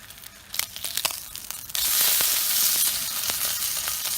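Turkey bacon sizzles in a hot pan, a dense crackling hiss that starts with scattered pops and then swells into steady frying.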